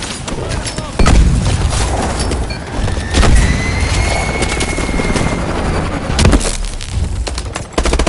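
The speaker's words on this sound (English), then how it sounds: "Island choppers inbound." Island helicopters approaching in a military video game, a continuous loud rotor drone beneath dense battle noise with sharp gunfire cracks and booms, and radio chatter breaking in.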